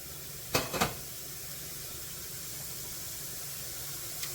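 Greek style chicken sautés in a hot pan with a steady, even sizzle, broken early by two quick utensil clanks close by.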